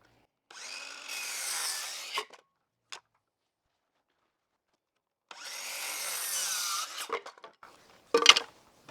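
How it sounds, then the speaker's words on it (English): A power saw cuts wooden fence rails in two bursts of whining, grinding cutting with silence between them, followed by a few sharp knocks of wood. "now I could actually cut my rails out."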